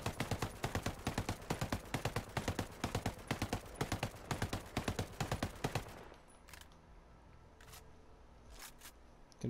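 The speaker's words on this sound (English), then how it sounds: "And here's rapid fire burst." An MK17 assault rifle in Ghost Recon Breakpoint fires a rapid, even stream of gunshots for about six seconds, then stops, leaving a few sparse clicks and thumps.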